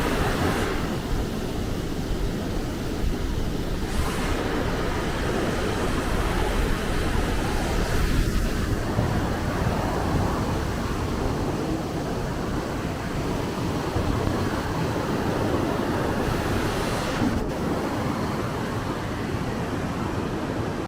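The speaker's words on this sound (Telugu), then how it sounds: "వాటర్ ఫ్లో చూడండి ఎంతగానో స్పీడ్ పోతుందో అసలు" Fast-flowing river water near Kedarnath rushes in a steady, loud, broadband roar that stays constant for about twenty seconds, with no voices over it.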